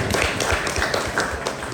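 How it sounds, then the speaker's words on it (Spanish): Students in a physiology class applauding, a short, fairly soft patter of clapping from a group in a room. "Aplausos para ustedes."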